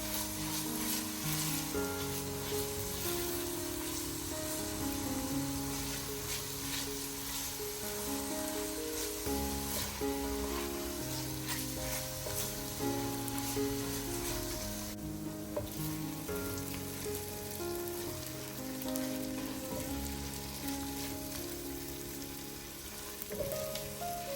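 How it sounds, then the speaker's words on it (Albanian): Grated carrot and potato fry in a pot with a steady, dense sizzle that runs unbroken throughout, close and even, with occasional stirring and no voices. "I përzijem për pak minuta derisa perimet e kenë filluar të skuqen."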